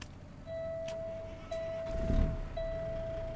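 A steady electronic beep tone sounds faintly, with a few soft clicks and a low rumble of an engine starting up beneath it: a truck's startup routine in a driving video game.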